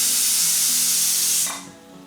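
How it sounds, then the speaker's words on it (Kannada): Pressure cooker on high flame cooking rice lets out a loud, steady hiss of escaping steam that cuts off abruptly, leaving a faint hum behind. "ಸೊ ಒಂದು ವಿಸಿಲ್ ಆಯ್ತು, ಇವಾಗ ಆಫ್ ಮಾಡ್ತಿದ್ದೀನಿ"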